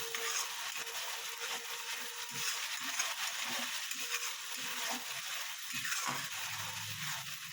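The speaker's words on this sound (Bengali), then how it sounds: "পোস্তটা এবার তেল ছেড়ে দিয়েছে। যতক্ষণ না তেল ছাড়বে ততক্ষণ কষে যাবেন।" Poppy seed paste frying in hot oil in a pan, a steady crackling sizzle with soft scraping stirs that runs unbroken throughout.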